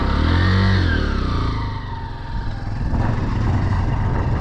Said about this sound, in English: Miley, get on your bike. Four-wheeler. Four-wheeler. I meant four-wheeler.